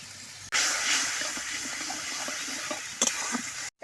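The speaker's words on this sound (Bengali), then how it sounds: "বাটিটা ধুয়ে অল্প একটু জল দিয়ে দিচ্ছি" A bowl that held ground cumin paste is rinsed and its water poured into a cooking pot, a steady rushing pour that stops abruptly, then resumes briefly with a splash.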